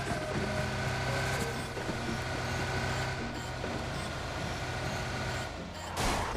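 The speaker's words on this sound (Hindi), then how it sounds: "मैं फटाफट गाड़ी लेके उधर ही निकल लेता हूँ" A vehicle in a shooting video game pulls away under a dense, steady rumble of engine and road noise with a hissing, brake-like burst near the end, loud and close throughout.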